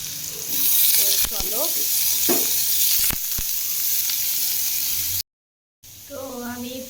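Potato dal frying in a hot pan gives a steady, close, broadband sizzle, with someone briefly talking over it and a short break in sound near the end.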